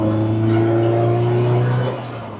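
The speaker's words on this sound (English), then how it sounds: "Man, you just need to listen to the engine of this car, man. It just sounds good." Lotus Elise sports car engine holding a steady, loud droning note as it accelerates past nearby, then dropping in level as it moves away.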